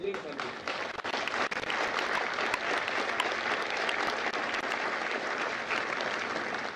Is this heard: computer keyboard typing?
no